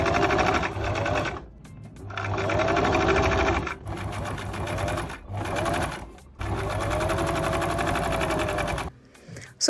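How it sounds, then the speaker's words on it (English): A sewing machine stitches folded fabric straps in several bursts of rapid mechanical clatter, pausing briefly between runs, close and clear with no talking. "Now I'll just head over to my sewing machine and stitch this together."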